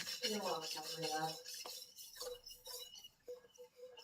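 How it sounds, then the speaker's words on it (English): A big whisk stirs dark beef-broth roux for Swedish meatballs, scraping and ticking against the pan in uneven strokes. A voice-like tone sounds briefly at the start. "we're going to slowly take our good friend here, the big whisk"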